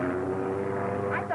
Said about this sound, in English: there's another plane. It's a black one.